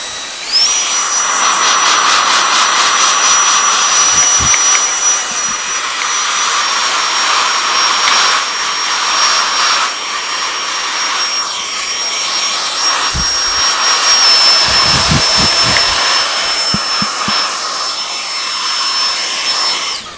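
A vacuum cleaner with a brush attachment runs steadily and loudly for the whole stretch while dust is cleaned off a sofa, its high whine constant, with a few soft bumps and knocks along the way.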